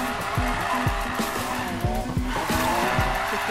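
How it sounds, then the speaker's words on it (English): A Lamborghini Aventador drifts in the racing game Need for Speed Payback, its engine droning steadily as tires squeal through the slide, with repeated low thumps and gear shifts punctuating the loud, continuous run. "Do not lose this drift"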